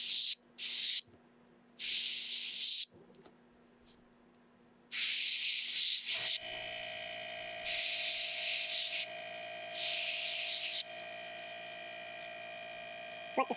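Paint sprayed onto a bluegill crankbait lure: repeated bursts of hissing airbrush spray, each lasting a second or two, with pauses between them and a steady electrical hum underneath.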